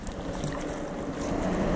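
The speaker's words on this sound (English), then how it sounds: "It's hard to paddle here" A boat is paddled through choppy waves rebounding off a concrete shore, heard as a close, steady wash of sloshing water mixed with wind buffeting on the microphone, with no talking.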